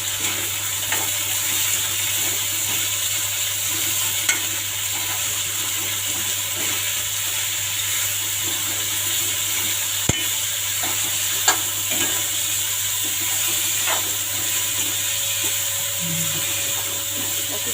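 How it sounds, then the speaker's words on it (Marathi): Spine gourd stirred and sautéed in a pan at home, giving a steady soft sizzle with light scraping of the spoon, continuous and close with no talking. "अशी छान परतून घ्यायची"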